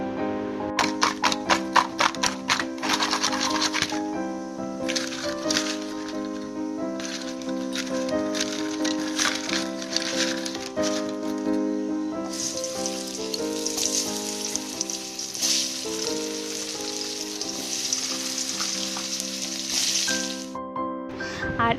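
Pointed gourd pieces coated in turmeric and salt frying in a pan, a dense steady sizzle with crackling spatters running loud and continuous throughout, alongside faint clinks of utensils.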